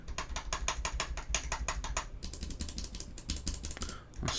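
Clicky typing comes from a mechanical keyboard with Cherry MX red switches: fast, close keystrokes in a steady patter, with no voices.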